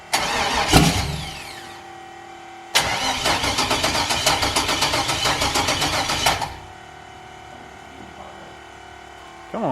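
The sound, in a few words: junkyard LS engine in S10 drag truck starting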